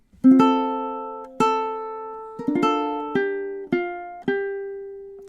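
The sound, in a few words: ukulele playing third measure of The Parting Glass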